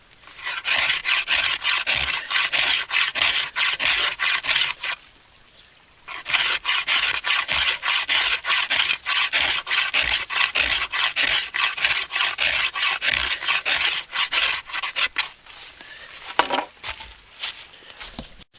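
Hand tool scraping and rasping along the wooden blade of a homemade Aztec macuahuitl sword, loud close strokes in a steady rough rhythm, pausing briefly partway through before scraping resumes.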